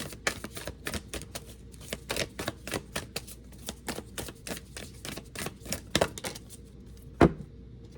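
Oracle cards from an Oracle of the Seven Energies deck riffle and slap in quick irregular bursts of crisp snapping flutters, with one sharper knock near the end, close by and without voices.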